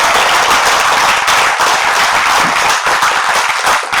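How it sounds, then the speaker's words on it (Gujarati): An audience at a Sanskrit recitation event bursts into loud, sustained applause, a dense wash of many hands clapping at once that tapers slightly near the end. "ખૂબ તાળીથી અમને સન્માન કરીશું."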